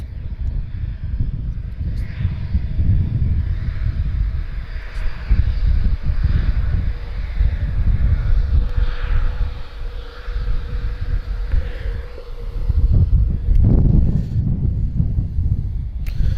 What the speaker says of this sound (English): So you may notice that A330 is going to use the full runway